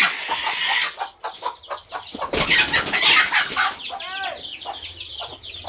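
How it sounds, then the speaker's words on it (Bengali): Poultry-farm chickens cluck loudly nearby, broken midway by a harsh burst of squawking and commotion before the steady clucking resumes. "আমরা মুরগি পালন করতেছি।"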